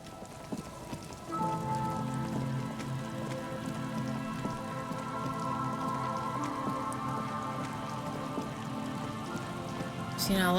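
Ongoing rainfall in Disco Elysium makes a steady patter, joined after a second by a low sustained tonal layer that runs beneath it to the end, with no speech.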